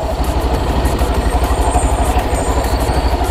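A Honda Beat v3 scooter with a worn clutch lining idles up close, its engine throbbing loudly in an even, rapid pulse throughout.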